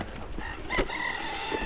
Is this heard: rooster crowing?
yes